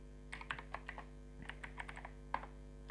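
Typing on a computer keyboard while writing a MySQL query: quiet, close, irregular key clicks in short bursts over a low steady hum, with no talking.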